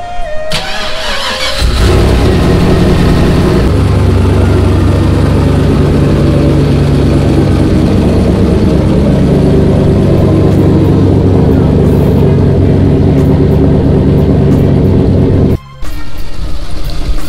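A car engine cranks and catches, then settles into a loud, close, steady idle with rising revs and a brief cut near the end.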